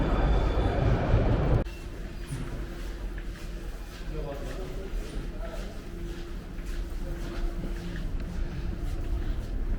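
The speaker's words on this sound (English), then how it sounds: "we are here in Quyluq Bazar metro station." Indoor ambience in Qoyliq Bazar metro station, Tashkent, Uzbekistan: a loud train rumble cuts off, then quieter reverberant hum with faint footsteps, distant clatter and murmuring people.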